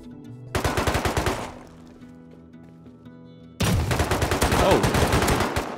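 Bursts of rapid automatic gunfire in the survival game Rust during a base raid, a loud rattling volley, a quieter pause, then a second sustained burst of shots.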